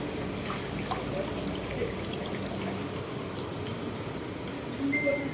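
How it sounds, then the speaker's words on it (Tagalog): Steady heavy rain over deep flood water, a continuous dense wash of water sound with trickling and pouring textures, fairly loud and unbroken, no voices. "Tuloy-tuloy kasi yung ulan ngayon, guys."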